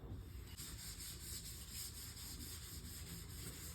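A clay bar drags over rough, contaminated car paint, producing a faint, steady gritty scraping with repeated back-and-forth strokes and no voices.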